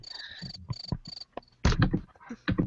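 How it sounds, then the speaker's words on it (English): A cricket chirping sound effect is played on a podcast. Short, bright, high-pitched trills come in a few quick bursts at the start, then voices talk over it. "Where's the cricket sound?"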